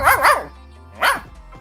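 A cartoon dog in an animated story barks twice in quick succession, pauses, then gives one more bark, close and clear with a faint trailing yip.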